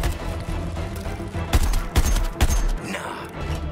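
Gunfire in the Suicide Squad: Kill the Justice League video game: a dense, continuous fusillade of rapid shots, with three louder, heavier blasts standing out midway before the firing thins toward the end.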